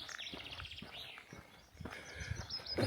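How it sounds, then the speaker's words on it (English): Birds chirp and twitter in the open near Blackwater Dam in Kinlochleven, several short bright calls and trills coming and going at a moderate distance over quiet outdoor ambience. "Or I might just listen to the birds singing."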